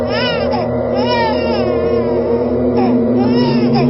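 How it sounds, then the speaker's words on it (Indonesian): Infant crying used as a sound effect in a radio horror drama, a loud, close, wavering wail that continues without a break under a steady low hum. "Suara tangisan bayi tersebut"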